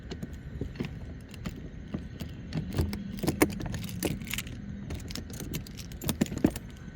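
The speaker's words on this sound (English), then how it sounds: "all I do is I just put the lock through there in the corner" Metal lock clinking and scraping against a motorcycle luggage compartment on a Honda Super Cub, a run of close, sharp jangly knocks and rattles over low background rumble.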